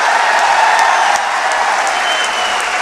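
Steady crowd applause at a devotional song performance, continuous dense clapping throughout with a few sharper claps standing out near the front.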